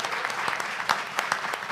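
An audience at a mayoral candidates' debate claps for the three candidate pairs, giving steady, moderate applause with a few sharper individual claps standing out near the listener.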